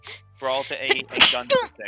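A single sharp sneeze bursts out mid-conversation at a tabletop role-playing game session, surrounded by people talking.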